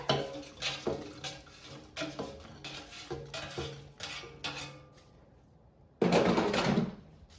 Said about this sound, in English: Let's take it out of the air fryer.